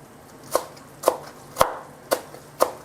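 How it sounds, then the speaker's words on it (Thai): A knife roughly chops coriander on a wooden board five times in a steady rhythm, each strike sharp and near. "หั่นหยาบๆ ได้เลยนะ"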